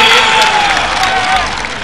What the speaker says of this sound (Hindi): एक बार जोरदार ताली बजाएं मुशायरे कमेटी के लिए।